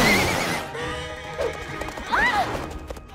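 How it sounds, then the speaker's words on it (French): A cartoon horse at a market whinnies twice with rising, squealing calls, over a busy background of clattering hoof-like knocks and faint voices. "il faut qu'on trouve un moyen de calmer ce cheval"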